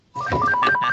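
A telephone rings with a loud, warbling electronic trill that rapidly alternates between two tones, heard close and alone.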